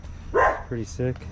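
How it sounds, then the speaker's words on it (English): A dog barks in the background of a garage where a 1953 or 1954 wagon-style pickup is being worked on, a few short yips under and between a person's speech. "Sorry about the dog in the background."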